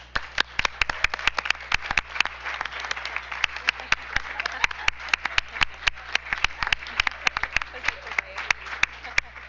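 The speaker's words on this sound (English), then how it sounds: "Let's give them a round of applause." An audience at a school district board meeting claps in a sustained, dense round of applause lasting several seconds, with sharp individual hand claps standing out, close and fairly loud.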